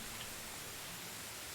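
Rain falling in the medieval survival game Medieval Dynasty, a steady soft hiss of drops, faint and even throughout with no other sounds.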